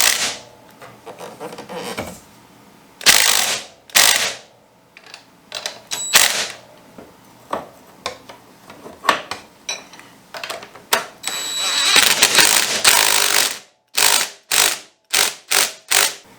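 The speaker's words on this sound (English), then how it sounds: "Putting the nut back in. I'm just tightening these up, but I will torque them to spec." Hand tools tightening nuts on a BMW R1200 GSA fork tube during a riser install, giving sharp metallic clicks and ratcheting bursts in uneven clusters, close by, growing busier toward the end with no speech.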